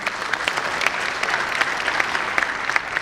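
A crowd claps steadily in sustained applause to welcome Arun Pannalal to the stage at an interfaith assembly in Raipur. There is no talk over the dense, even clapping.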